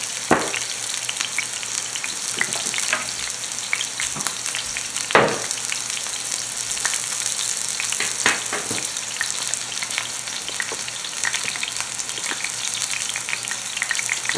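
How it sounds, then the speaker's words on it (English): Meat searing in a hot pan, a steady loud sizzle and crackle running throughout, with a few sharper pops and spatters, no talking. "2 or 3 minutes to get a nice sear on it"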